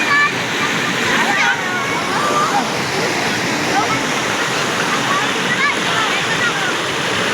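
River water splashes and rushes loudly as people bathe, a continuous close wash of water with faint voices mixed in.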